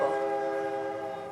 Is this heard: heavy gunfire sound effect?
no